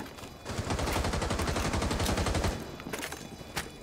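Light machine gun fire in a video game, a loud rapid burst of shots that runs for about two seconds, then trails into a few scattered shots and one late single crack.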